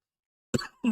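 A single sharp cough breaks out after a stretch of silence, close and fairly loud, with a second rough burst following shortly after.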